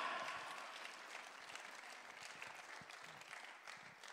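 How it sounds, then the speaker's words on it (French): A church congregation at an Easter revival service claps together, a soft, diffuse wash of applause that is heard from a distance and tapers slowly over a few seconds. "On nous applaudit, bon Dieu"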